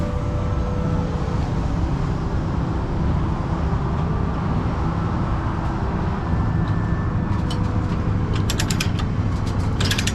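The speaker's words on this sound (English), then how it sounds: "Straps are definitely tight, but those front chains could use some tightening up." Chains securing conduit reels on a trailer are tightened with a binder, making steady ratcheting and creaking mechanical clicks that continue throughout, close and moderately loud, with a burst of faint metallic ticks near the end.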